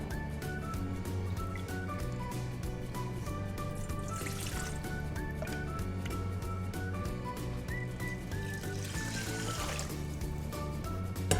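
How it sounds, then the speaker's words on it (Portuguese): Water pours into cooking pots, about half a litre each, for sushi rice, with two louder splashing bursts standing out over continuous background music. "Agora nós vamos usar aqui, ó, meio litro de água para cada um."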